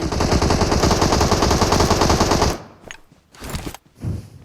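Rapid automatic gunfire from PUBG Mobile on the Sanhok map, a loud sustained burst of about two and a half seconds that cuts off, followed by scattered sharp clicks and a couple of shorter bursts.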